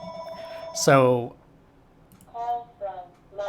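A telephone rings during a Houdini destruction live-stream, one loud close ring followed by two fainter rings, with a voice briefly under it.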